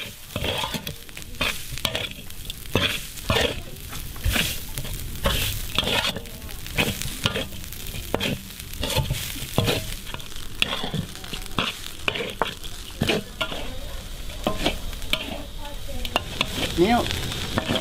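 Chilies and quail sizzle and hiss in a hot wok under steady stir-frying, with rapid repeated scraping strokes of a spatula throughout, loud and close.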